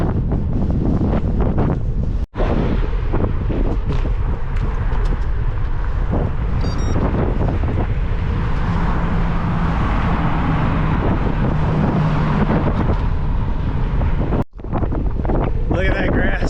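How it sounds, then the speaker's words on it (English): Strong wind buffets a microphone on a bikepacking ride over open grassland, a loud, constant low rumble with gusty swells and two abrupt dropouts. "Wind's blowing about 18 in my nose."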